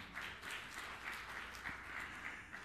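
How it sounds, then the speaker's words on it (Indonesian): Steady applause from a crowd, sustained clapping throughout with slight swells, no voices standing out. "Yang percaya tepuk tangan yang meriah untuk kemuliaan"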